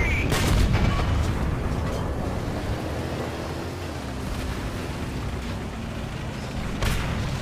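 Tank cannon fire in the War Thunder video game, a heavy boom at the start with another near the end, over continuous low rumbling battle ambience.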